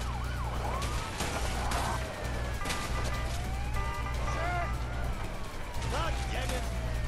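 Police car sirens wail in the video game A Way Out, steady rising and falling tones over a constant engine drone during a car chase, heard continuously and fairly loud.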